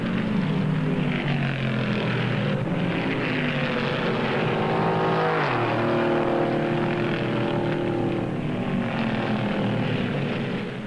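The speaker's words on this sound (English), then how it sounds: "Riding at 145 miles an hour, Fireball Roberts has passed 34 cars in one of the most amazing rides ever seen on a racetrack." Stock cars at speed on the 1959 Indianapolis Motor Speedway, among them a black and gold Comet and Fireball Roberts' number 3 Pontiac, give a continuous loud engine roar with one car sweeping past in a rising and falling drone near the middle.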